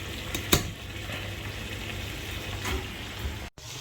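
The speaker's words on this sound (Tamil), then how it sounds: "இது வந்து கொதிக்கட்டும்" Thai green curry simmering in a pan with water added, a soft, continuous bubbling and sizzle at low level, with an occasional faint clink or stir.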